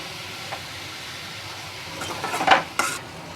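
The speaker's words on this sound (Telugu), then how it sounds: "ఈ చక్కెర కరిగేంత వరకు ఊరికే కలుపుతూ ఉండాలి" A spoon stirs sugar through grated carrot halwa in a metal pan, giving a few soft scrapes and clinks near the end that build into louder knocks against the pan over a quiet background.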